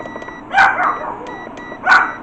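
Two short bursts of dog barking, close by and fairly loud, set against a steady high-pitched whine from an induction burner in a home kitchen.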